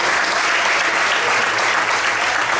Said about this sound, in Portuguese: Você pode aplaudir esse Jesus maravilhoso?